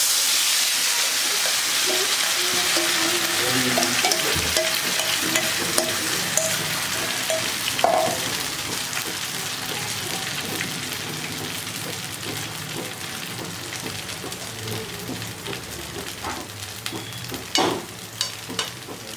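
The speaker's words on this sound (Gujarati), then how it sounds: "ચલો હવે આપણે આ નાસ્તાનો વઘાર કરીશું" A curd and semolina snack sizzles steadily in a pan with a little oil as it is tempered, making a loud, continuous crackling fry with no one speaking.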